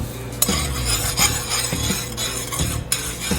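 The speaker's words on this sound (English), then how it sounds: "We're going to stir it. Oh yeah, look at that caramel." Caramel made from melted sugar being stirred in a pan, with repeated scraping strokes and light clinks of a utensil against the pan at a steady rhythm, close and fairly loud with no talking.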